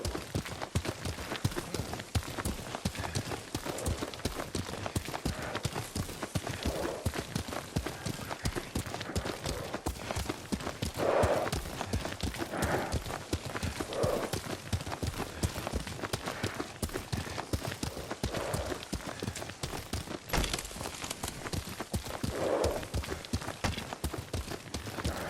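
Horse hooves clip-clopping steadily as a rider travels on horseback in the samurai video game Ghost of Tsushima, a continuous rhythmic patter with a few brief voices over it.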